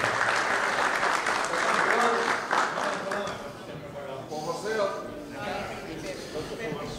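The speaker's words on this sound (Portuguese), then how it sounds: "podem dar uma salva de palmas para ele ter comprado o bilhete" A carnival crowd at a prize raffle applauds a ticket-buying winner with dense clapping that starts loud and gradually softens, while voices talk over the later part.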